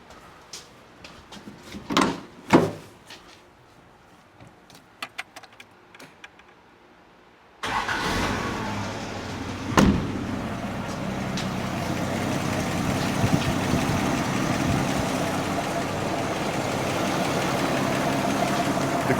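A Toyota Land Cruiser engine is started after several clicks and knocks, then idles steadily while warming up, close and even for the rest of the stretch.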